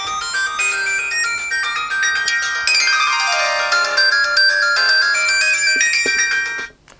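A Doro PhoneEasy 341gsm phone plays its ringtone at high volume: a loud, bright electronic melody of quick tones, close to the mic, heard alone for about seven seconds before cutting off.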